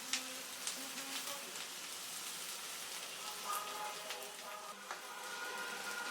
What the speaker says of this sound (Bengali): দিয়ে এখন এর সাথে একটু ভেজে নিব, রসুনগুলো একটু হালকা বাদামি দাগ দাগ ধরা পর্যন্ত।